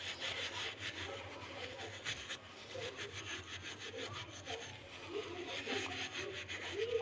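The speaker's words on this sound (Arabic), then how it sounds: "وهتتشال زي ما انا بوريكم كده بالسلك" Steel wool scrubbing grime off a gas stove burner, a steady rough rasping rub that continues without pause, close and moderately loud throughout.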